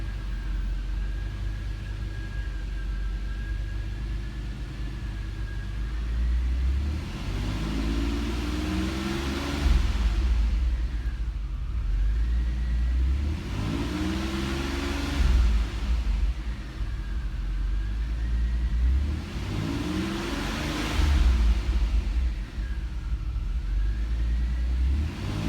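A 1988 Chevrolet Beretta GT Z-51 engine on a wrecking-yard test, idling steadily with three or four rising revs spaced several seconds apart, close and loud, with no talk.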